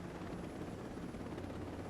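An unarmed helicopter in Ghost Recon Breakpoint flies with a continuous rotor thrum and engine roar, steady and moderately loud, with no talking.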